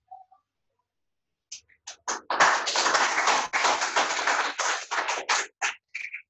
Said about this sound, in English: We should be applauding you.